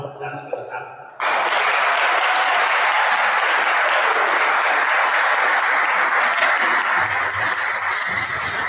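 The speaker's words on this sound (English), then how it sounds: "Please give a round of applause for Admiral Vasquez Tapia." A college audience at Sauk Valley Community College breaks into sudden, loud applause after brief speech, the steady dense clapping sustained for several seconds before thinning near the end.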